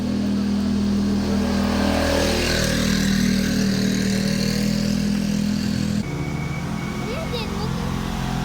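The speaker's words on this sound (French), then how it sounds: "Regardez, une moto." A motorcycle passes by at the end of practice sessions, a loud engine drone with a shifting pitch that drops in level partway through, with voices underneath.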